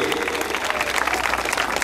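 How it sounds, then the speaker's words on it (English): A crowd at an outdoor community National Night Out event breaks into brisk, dense applause, a close and continuous clatter of many hands with some voices mixed in. "So let's give a big round of applause to all the organizations that are here"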